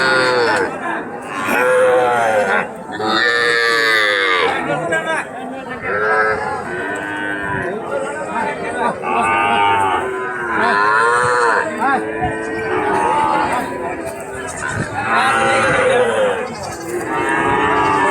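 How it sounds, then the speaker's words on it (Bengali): Cattle and calves moo repeatedly at a busy livestock market where calves are sold to farmers, loud overlapping bellows filling the scene with crowd chatter around them. "এখনো গরু আসতেছে, আরো গরু আসবে।"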